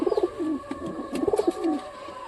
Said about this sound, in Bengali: আর দেখি এই কবুতরটা আছে